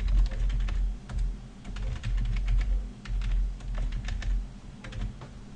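A computer keyboard clatters with close, continuous typing as Scala code is written, the keystrokes coming in irregular quick bursts with short pauses over about five seconds, and no one speaking.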